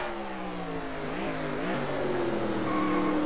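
Engines of classic race trucks in a racing video game at Watkins Glen drone and rise in pitch together as the pack accelerates, a steady loud multi-engine roar with no talk.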